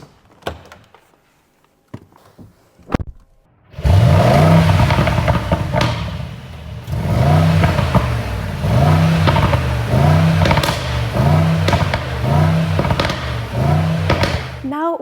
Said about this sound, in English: This is the iconic AMG V8 engine.